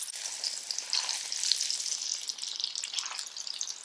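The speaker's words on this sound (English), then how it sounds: "And we'll fry until it's brown, nice dark brown." Plantain frying in a pot gives off a bright, continuous crackling sizzle up close that holds steady throughout with no voices.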